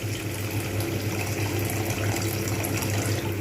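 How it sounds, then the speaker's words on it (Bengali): Water pours steadily into a spice paste for catla fish curry, a continuous gushing, splashing stream at close range with no voices. "এইবার আমি এতে দিয়ে দেবো একটু জল।"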